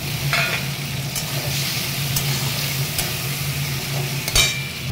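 Tomato and ginger go into a hot, sizzling tempering for a Bengali potol dish. A steady, moderate sizzle carries on throughout, with a few sharp clinks of a spoon against the pan.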